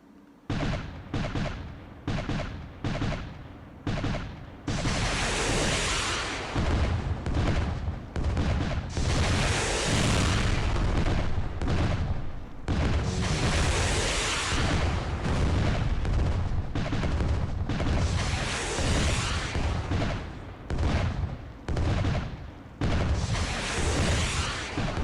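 Warship guns fire in the Atlas Warship video game as dense, sustained volleys of booming gunfire, with a few separate shots at first that build into near-continuous loud barrages with brief gaps.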